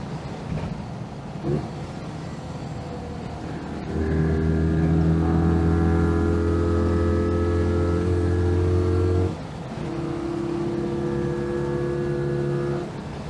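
A modified 720cc Citroen 2CV engine revs hard and steadily toward 6,200 RPM, its droning tone rising and holding, then briefly dropping before climbing again, loud and close.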